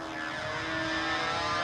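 A model airplane engine runs continuously at a steady high-pitched whine and buzz, heard fairly close and growing slightly louder, at a 1994 model flying meet with no talking.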